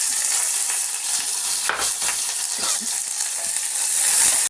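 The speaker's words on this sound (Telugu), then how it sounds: "ఆనియన్స్ ఇట్లా వేగుతూ ఉంటాయి కదండి" Onions fry in ghee with dried red chillies, mustard seeds and cumin in a pan, giving a loud, constant close sizzle, broken now and then by the scrape of stirring.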